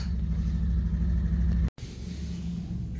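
A noisy car engine with a failed block and a botched quarter overhaul rumbles and revs steadily close by, cuts out abruptly for a split second, then resumes the same loud, rough drone.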